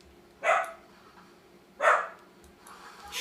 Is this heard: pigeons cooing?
no